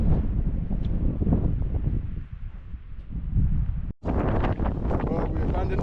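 Strong wind buffets the microphone at a Lake District wild campsite, a loud continuous low roar with gusts that swell and dip, briefly cutting out before returning even harsher.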